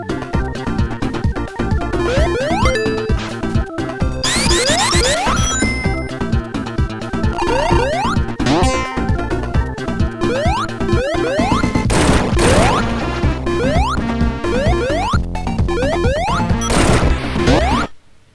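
Sega Mega Drive sound test played through a MegaAmp audio mod, a loud, dense run of chiptune tones and crashing percussive hits, with rapid pitch sweeps and bursts, ending abruptly near the close.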